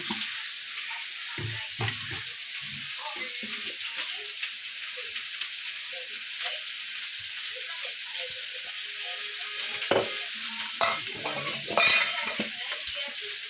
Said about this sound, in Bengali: আর এই যে বাটা মশলা জিরে সতেজ ভেজে করছি